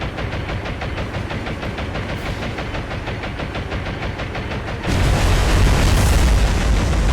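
Bombs dropped by Martin bombers exploding in the naval game War on the Sea, a run of rapid rumbling booms under anti-aircraft fire, then a heavier, louder deep blast that swells and rolls on.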